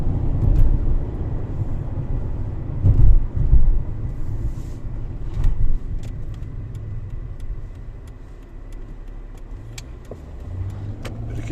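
A car drives along a road toward a workshop, its engine and road noise rumbling steadily up close, swelling and easing a few times as it moves through traffic.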